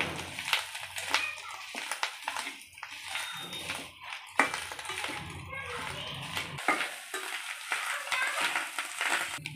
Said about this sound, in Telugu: ఫిష్ ఎగ్ బాగా కలుపుకోవాలి ఫ్రెండ్స్